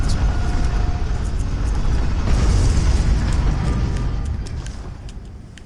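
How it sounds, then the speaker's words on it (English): A cannon weapon fires in the Bloodborne video game, giving one deep, loud boom that rumbles and slowly fades over several seconds, with no talk over it. "Let's see what the cannon looks like."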